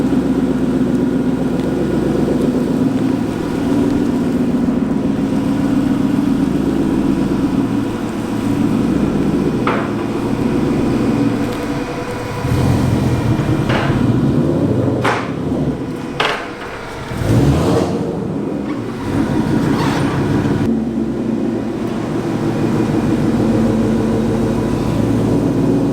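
A 700+ horsepower car engine runs on a dyno, holding a loud, steady drone throughout, with a few sharp clanks and a brief dip near the middle before it roars back up.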